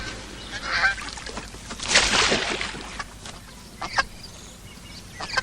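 A goose honks loudly in a few harsh bursts, the strongest near the middle, with quieter background noise between calls and no talking.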